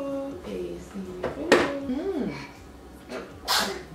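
An infant sneezes indoors during a home mealtime, a short sharp burst amid soft babbling and breathy vocal sounds, followed by another quick sneeze-like burst near the end.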